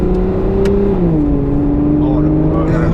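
Aston Martin DBS engine droning close and loud around mid revs, its steady rumbling tone sagging slightly as it settles, with people talking over it.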